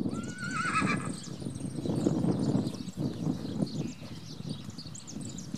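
A purebred criollo bay mare whinnies in a high, wavering call early on, followed by hoof steps and shuffling at close range on a farm.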